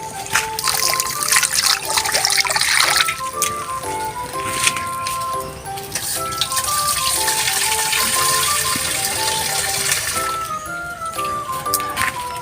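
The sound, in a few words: water poured into pot for fish humba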